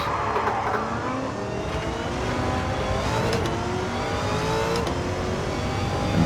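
Race car engine in Gran Turismo 7 howling steadily as it accelerates, pitch climbing and dropping with quick gear shifts, loud and continuous with no voices over it.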